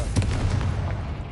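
Spell blasts from a Confringo fire curse in the wizarding game Hogwarts Legacy, a dense, continuous barrage of booming bursts and low rumbling impacts with no clear gaps, loud and close throughout.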